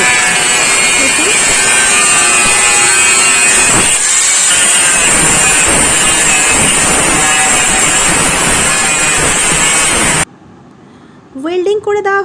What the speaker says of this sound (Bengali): এবার সিটটাকে একটু কেটে নেওয়া হচ্ছে